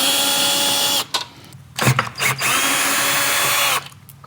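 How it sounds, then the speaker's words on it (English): Power drill backing screws out of a fixed picture window frame during installation, loud and close, whirring steadily with two short breaks and a brief clunk between runs. "We're going to remove all the screws without the plastic ring first."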